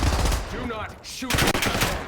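Loud bursts of gunfire in a first-person shooter video game, a rapid cluster of shots followed by another blast, with brief game sounds between them and no clear voice.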